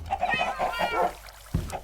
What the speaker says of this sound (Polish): Czemu ty masz kurczaki?